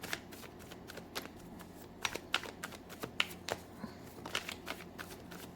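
Tarot cards are shuffled and drawn by hand, giving a quiet, close series of crisp riffling flicks and soft slaps in irregular bursts, with no voices.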